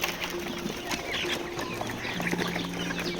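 Chickens cluck and call together in a poultry shed at a farm during deworming, a dense, steady flock chorus with a few sharper squawks standing out, close and continuous throughout.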